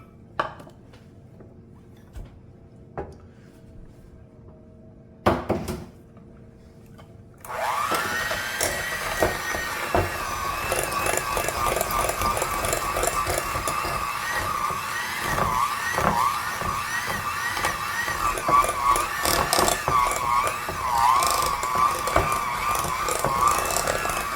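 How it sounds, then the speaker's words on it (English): After a few quiet knocks and clinks, an electric mixer starts up and runs steadily and loudly, whirring through butter and sugars for a banana cake, with beaters rattling against the bowl. "Now we're going to mix up our butter and our sugars"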